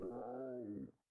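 A public domain cat meow sound effect, pitched down to a low, groaning tone, plays as one sustained call of about a second that fades out at the end.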